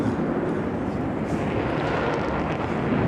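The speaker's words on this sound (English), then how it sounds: "Ladies and gentlemen, the Eurofighter Typhoon." A Eurofighter Typhoon jet flies a display at the Goodwood Festival of Speed, its steady, loud broadband roar filling the air continuously with no break and no voices over it.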